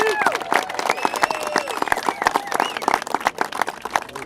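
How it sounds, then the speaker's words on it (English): Outdoor crowd applause at a Long Island parks and coastal cleanup event, dense steady clapping and some cheering that holds for several seconds, with a voice calling out over it. "let's give him a round of applause."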